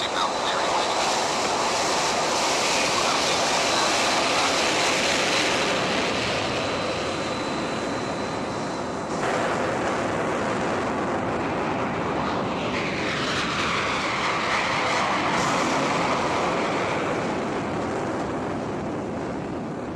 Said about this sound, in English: Right, Alpha, clear on the active and clear for takeoff